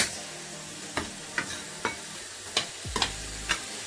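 Beef and deglazed juices being stirred in a pot for a beef fricassée, a steady low sizzle broken by about eight sharp scrapes and knocks of the spoon against the pot, nearby and without voices.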